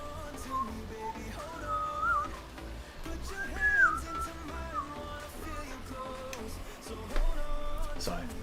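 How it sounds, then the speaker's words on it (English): A person whistles a wandering melody straight into a microphone, close and fairly loud, in short phrases with small gaps over a faint background. "probably shouldn't whistle into the microphone"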